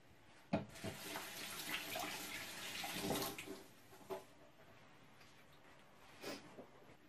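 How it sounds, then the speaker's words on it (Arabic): Running tap water splashes over hands at a kitchen sink while making small chicken pastillas, a steady broadband wash with a few sharper splashes and bursts around the middle. "نغسل يديا"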